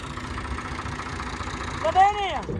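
A tractor engine idles with a steady, mid-pitched rumble, and voices can be heard talking nearby before a brief rising whine near the end.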